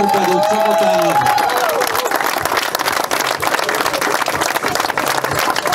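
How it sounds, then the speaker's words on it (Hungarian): Applause for the Túri Torpedó team at a local competition's award announcement, dense steady clapping from a crowd filling the whole stretch, with a brief voice and tone at the start. "Még egyszer egy nagy tapsot kérünk a Túri Torpedó csapatának."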